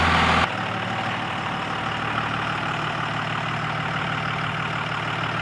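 A Dodge truck with freshly adjusted steering on a short test drive around the block, its engine droning steadily from inside the cab at a constant moderate volume throughout, with no talking.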